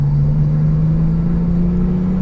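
A COBB Stage 2 tuned Porsche 997 911 Turbo, all-wheel drive, drones steadily at high revs on a race track, a constant loud mechanical hum with road rumble and no voices.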